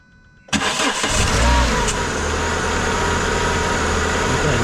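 A Cessna 182 aircraft engine cranks and catches after a moment of quiet, then settles into a loud, steady close-up running drone that continues unbroken to the end.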